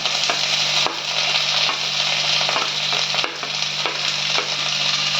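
Sliced onions and curry leaves fry in a hot pan, a continuous close sizzle broken by regular spatula stirs and scrapes, with a low steady hum beneath and no speech.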